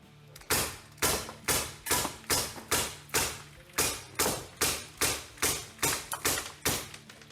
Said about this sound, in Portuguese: A gente vai estar atirando com uma distância de 5 metros aqui no nosso estúdio, no tijolo.